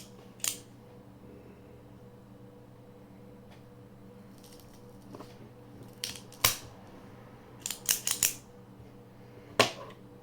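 The cap of a Mexican Churchill cigar is snipped in a quiet room. One sharp click comes early, then a cluster of crisp cutter snaps and squishy clicks near the end.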